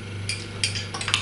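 A fork stirs sports supplement powder in a container, with a few sharp metallic clinks and scrapes over a low steady hum and no talking.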